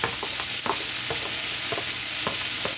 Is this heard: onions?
yes